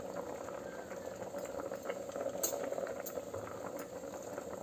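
Avarekai sambar boils steadily in a pot, a dense continuous bubbling close by with a few faint metallic clinks scattered through it.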